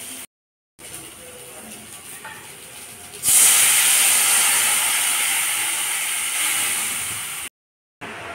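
Water is poured into a hot pan of frying potatoes and taro with chili, setting off a sudden loud hiss that holds for several seconds and slowly fades.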